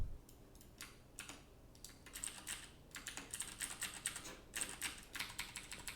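Quiet, rapid computer keyboard typing, evenly paced keystrokes close by with brief gaps, no voices over it.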